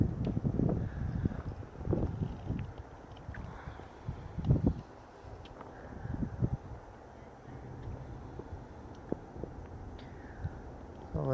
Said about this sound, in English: You can see it is pretty windy out here.